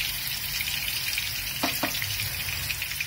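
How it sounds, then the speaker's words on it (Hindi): Minced meat kebabs frying in a pan, a continuous bright sizzle with a couple of quick soft knocks midway, no talking. "अच्छे से फ्राई कर लीजिए ताकि हमारा खीमा, जो हमारा कबाब है, वो अच्छे से पक जाए।"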